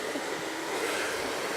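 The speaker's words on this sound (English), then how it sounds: "I'm going to incorporate my blow dryer in this" A hair blow dryer runs steadily at close range for a short stretch while hair is stretched and pulled, giving an even, unbroken airy whoosh with no speech.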